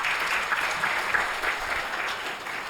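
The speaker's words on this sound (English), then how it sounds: "Please give her a big round of applause." An audience at a talk gives a warm round of applause, steady clapping from many hands that holds evenly and begins to taper toward the end.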